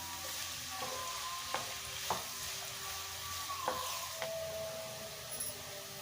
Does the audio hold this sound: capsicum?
yes